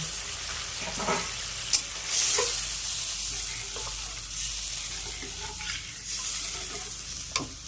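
Gravy for a Bengali coriander bhola fish curry simmers and sizzles steadily in a pan, a continuous close bubbling hiss with occasional soft pops and small clinks.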